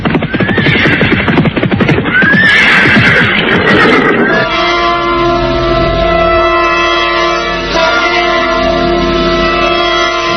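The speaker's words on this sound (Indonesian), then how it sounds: "mendadak dari jauh terdengar derap orang-orang berkuda" Horses gallop in from a distance with a rapid, rhythmic pounding and a whinny, then the hoofbeats give way to sustained, tonal music.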